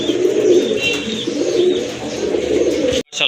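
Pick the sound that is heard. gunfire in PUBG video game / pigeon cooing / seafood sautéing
pigeon cooing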